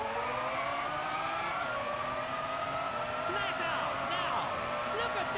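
Several Formula 1 cars in a racing video game pull away from the grid together, rising engine whines layered in a continuous moderately loud drone, with brief higher squeals near the end.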